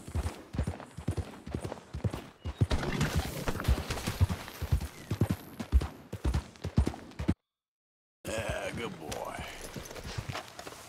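Horse galloping in Red Dead Redemption 2, rapid hoofbeats pounding close and rhythmic with an occasional snort, under speech from the rider, then a brief dropout before the hoofbeats resume.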